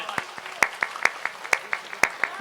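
Sparse, irregular clapping from an audience at a Hindi-Urdu kavi sammelan poetry recital in Hata, Damoh, a handful of sharp separate claps rather than full applause, with a voice speaking in the background.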